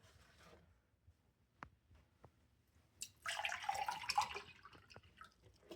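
Filtered water from an emergency filtration setup trickles and splashes into a container after a few faint drips and taps, the pour rising midway and then tapering off, quiet and close.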